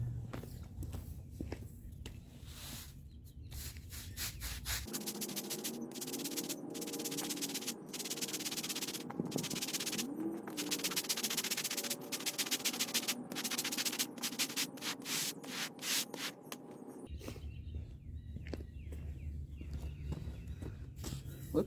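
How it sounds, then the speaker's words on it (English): Scrubbing on a concrete driveway soaked with cleaner over an oil stain, a steady close rasping brush rhythm that swells in the middle stretch, with no talk. "Now we're going to scrub it in a little bit."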